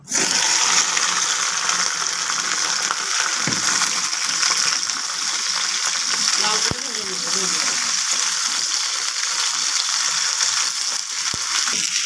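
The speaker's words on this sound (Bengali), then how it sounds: "তেলটা গরম হয়ে গেছে ভেন্ডিটা দিয়ে দেবো" Okra dropped into hot oil in a kadai fries with a steady, loud, unbroken sizzle that lasts the whole stretch, close by.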